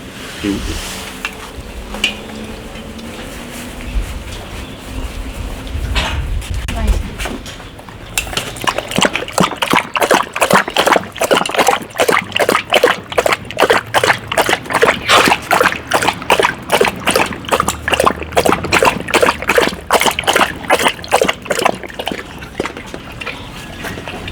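A dog laps water from a bowl greedily, with fast rhythmic splashing laps that continue steadily for many seconds after a quieter start.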